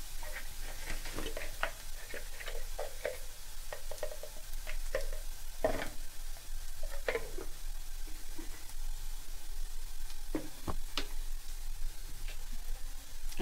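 Something is pan-fried until golden brown for a paneer and semolina pakora recipe, a soft steady sizzle with scattered light scrapes and taps of stirring, fairly quiet throughout.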